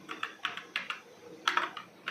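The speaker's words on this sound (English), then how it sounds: "I will type stand.txt." Typing on a computer keyboard while entering a Linux command on Ubuntu, a brief run of crisp, close key clicks in quick uneven succession.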